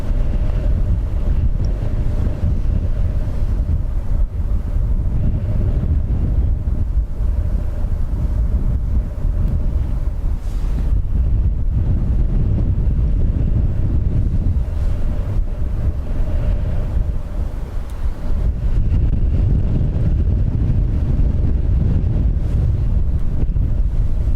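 A strong crosswind of about 22 knots blows at Dublin Airport, roaring and buffeting the microphone in gusty surges that last the whole stretch, with a few brief lulls and no talk.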